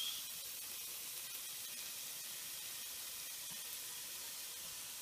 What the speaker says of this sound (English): So right now we're just going to pop in our spaghetti squash